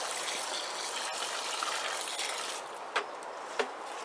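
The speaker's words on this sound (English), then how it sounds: "Water's just draining away." Rainwater draining away through a bed inside a polytunnel during Storm Francis in the UK: faint, steady trickling and rushing water with a couple of soft drips near the end.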